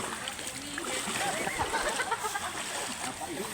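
A river stream near the Cavite falls in Silang rushes and splashes in a steady, close wash of water, with voices talking over it.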